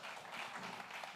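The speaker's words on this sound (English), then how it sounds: "Round of applause, guys." Audience applause at a music-industry panel on royalties and sync licensing, a brief, dense wash of clapping from a crowd in a room, steady throughout with a faint voice underneath.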